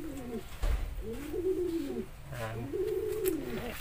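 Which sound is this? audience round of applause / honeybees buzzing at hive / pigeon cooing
pigeon cooing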